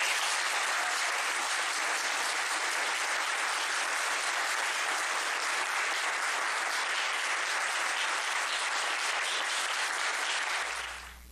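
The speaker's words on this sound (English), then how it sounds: "So one more round of applause for all of them." A large audience at a community gathering in Missoula honoring young peacemakers applauds loudly and steadily for about eleven seconds, a dense even wash of clapping that tapers off at the very end.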